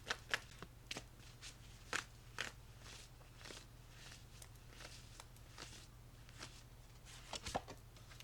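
Tarot cards are shuffled by hand before a spirit animal card is drawn, giving quiet, crisp snaps and flutters at an irregular rhythm over a low steady hum, with no talking.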